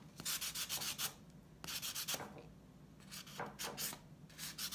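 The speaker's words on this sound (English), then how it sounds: "you take this sanding sponge" Fine sanding sponge rubbed over an ornamental gourd, close and steady: bursts of dry scratchy scrubbing in three runs separated by short pauses, no talking.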